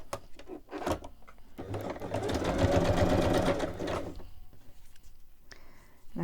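A sewing machine runs a straight stitch in one sustained, close whirring burst of a couple of seconds, framed by soft handling clicks and rustles before and after.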